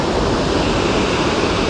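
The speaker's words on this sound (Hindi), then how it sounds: "जुल्फिकार यार, क्या सही पानी है" A flowing mountain river in Himachal Pradesh on the way to Kasol makes a loud, steady, broadband rush of water close by, continuous throughout with no talking.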